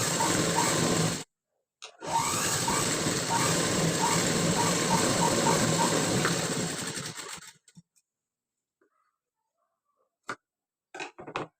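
A sewing machine stitching along a blouse lining strip runs in a loud, close mechanical whir for several seconds after a brief stop, then halts, followed by a few faint clicks of handling.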